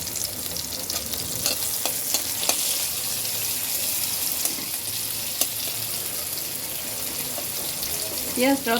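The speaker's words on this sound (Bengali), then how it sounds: "পেঁয়াজটাও ভেজে নেব" Onion slices sizzling and crackling steadily in a hot pan of oil, a dense continuous fry with a few spoon scrapes and a brief clatter near the end, no talking.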